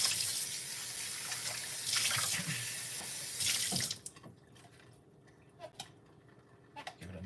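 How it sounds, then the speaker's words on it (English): Water runs from a tap to rinse a fruit washer, a steady hissing gush for about four seconds with one brief break, then stops, leaving faint handling clatters. "Give it a nice little rinse."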